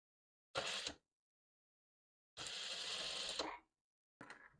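A sewing machine running a straight stitch with the right sides of fabric together, in short close bursts: a brief run, a longer steady whir of about a second, then another short start.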